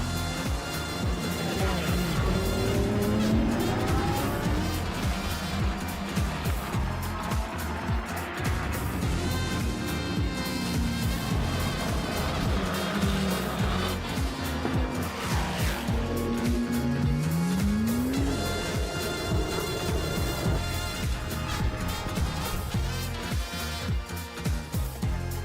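GT race cars at Aragón circuit braking hard into a corner, engines roaring and downshifting continuously with pitch sweeps as they pass, a dense loud mechanical wash with faint commentary underneath.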